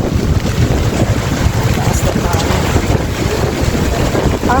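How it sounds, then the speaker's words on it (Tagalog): Strong, roaring wind from Typhoon Uwan buffeting the microphone continuously, loud and gusty with no pauses. "Ang lakas ng hangin."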